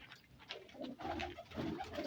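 A Ferozpuri pigeon coos in repeated soft, throaty phrases, moderately close and alone, with faint background noise between the calls.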